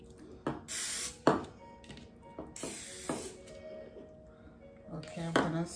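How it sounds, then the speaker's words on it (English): Several short hissing sprays from an aerosol can of cooking spray onto a pan, close by, with brief pauses between bursts and some clattering and talking in between. "put some spray on the bottom"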